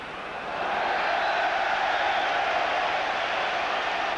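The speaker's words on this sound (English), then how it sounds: "A cheer from the Rangers fans." Rangers supporters cheering in a packed football stadium during a Rangers v Celtic match, a broad, sustained roar of crowd noise that swells after a brief lull and holds steady.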